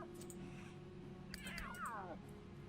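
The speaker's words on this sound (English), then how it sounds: "These guys are getting along. Let's see, speaking of new cats, Creek Spirit, you are still asleep." A cat meows in the video game Sims 3, a single drawn-out, wavering meow with a falling pitch, faint and short over a low steady game hum.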